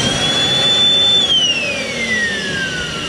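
A central vacuum system motor roars with a high, steady whine, then the pitch slides down steadily as it is switched off and spins down, loud and close under a broad rushing noise.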